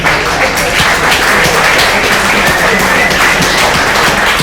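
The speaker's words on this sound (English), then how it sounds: "a huge round of applause for everyone" Applause from a hackathon audience at the Pakathon event in Toronto, a dense steady wash of many hands clapping throughout, fairly loud and close with no pause.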